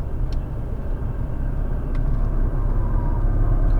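A Nissan GT-R on a race track, powering out of a corner, gives a steady, deep engine rumble that swells slightly toward the end, heard from inside the car with no talk.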